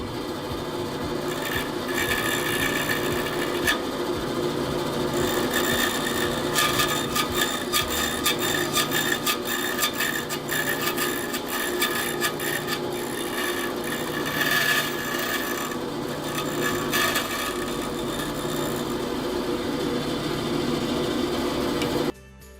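A saw cuts notches in wooden guitar bracing with a continuous scratchy rasp of rapid, close strokes that runs steadily for a long stretch and then stops suddenly, with no talk.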